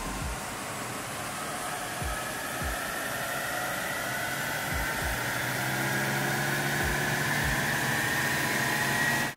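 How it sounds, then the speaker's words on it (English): Ford Ranger fitted with an ARMAX snorkel doing a power run on a dyno, its engine note rising steadily in pitch under a loud broadband rush, then cutting off abruptly at the end. "put the vehicle back onto the dyno and do a couple of power runs"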